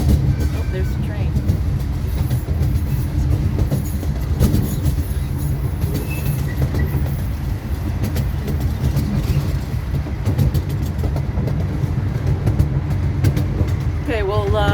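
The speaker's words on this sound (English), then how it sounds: "Oh, there's the train." Zoo train at the Milwaukee County Zoo rolling along its rails, a steady close rumble with faint clatter and a brief squeal near the end, while voices murmur nearby.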